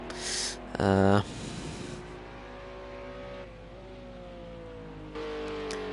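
A front-engined GT race car in a racing game revs its engine, which has six more cylinders and one turbo fewer than its rival, a steady drone rising and falling in pitch, with a sharp louder burst near the start.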